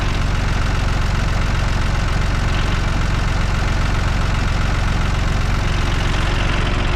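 A tractor engine idles loudly and steadily, with a rapid low throbbing knock that stays constant throughout.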